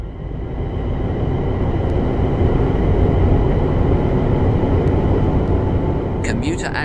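A Class 350/1 Desiro electric multiple unit runs in a train simulator on the busy four-track West Coast Main Line, giving a steady, continuous rumbling roll of wheels and motors that holds level throughout, with a few faint clicks near the end.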